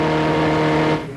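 A 1987 Formula Vee race car at Amaroo Park screams at full throttle in a steady, loud, buzzing engine drone that drops away abruptly just before the end, with no talking.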